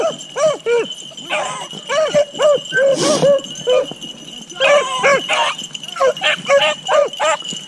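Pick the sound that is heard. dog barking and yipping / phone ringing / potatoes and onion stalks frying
dog barking and yipping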